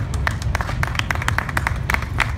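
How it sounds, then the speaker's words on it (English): An outdoor crowd at a hypnotist show in a parking lot claps. The separate, sharp hand claps are scattered and uneven rather than a smooth roar, with low rumbling background noise underneath. "Give her a round of applause,"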